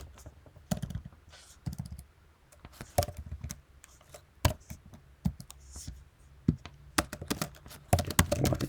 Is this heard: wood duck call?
no